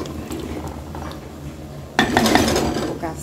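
Beans sautéing in a pot on a home kitchen stove, with a steady sizzle and clinking of a utensil against the pan, growing louder and busier midway through.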